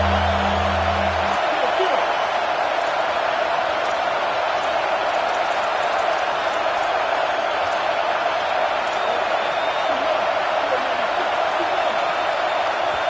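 Steady roar of a packed stadium crowd at a Michigan versus Alabama college football game, loud and continuous throughout, swelling as the offense rushes to the line in a hurry-up.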